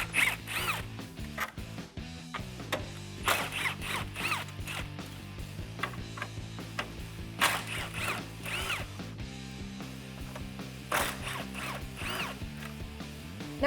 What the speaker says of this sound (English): remove the 4 10mm bolts holding on your grill